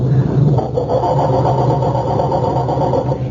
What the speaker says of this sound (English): It sounds like our culprits are having trouble starting Dennis's car